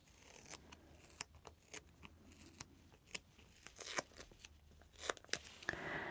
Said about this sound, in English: we need the microfoam tape. So we take, using our scissors,